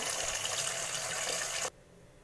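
Rice is washed in water before cooking as tap water gushes steadily into a container, then cuts off abruptly, leaving near silence.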